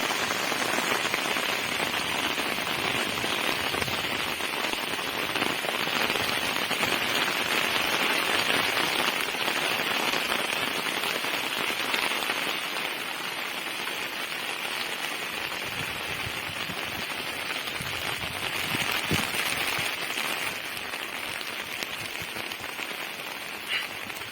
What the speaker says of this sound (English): Since it is raining heavily, we will go ahead with the narration once the rain is stopped.